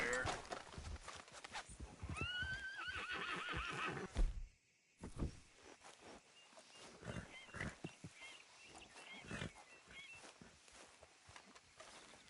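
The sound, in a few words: horse neighing in Red Dead Redemption 2 video game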